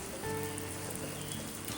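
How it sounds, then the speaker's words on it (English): Water drips and patters steadily off a soft hunting jacket under a simulated downpour, a continuous close rain-like hiss with no talk. "But it's dripping water right now. This would be a downpour."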